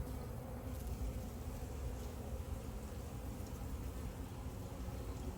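Queenless honey bees hum in a low, dense, continuous drone while an open hive with drone comb is inspected, steady and fairly faint throughout, with no talking.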